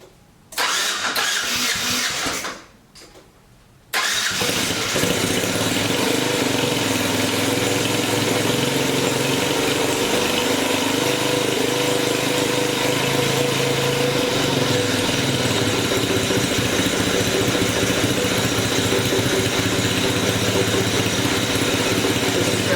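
A freshly rebuilt Yamaha Badger YFM80 ATV engine with a brand-new top end catches after a brief crank, stumbles and cuts out, then restarts and settles into a loud, steady, close idle that runs on uninterrupted.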